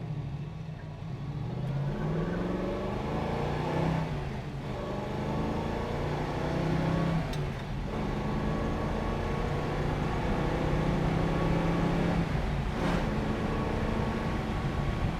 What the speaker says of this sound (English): We'll get it around the corner here and run it through the gears for you guys.